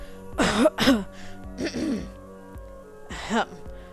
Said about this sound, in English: He coughs and clears his throat, determined to finish.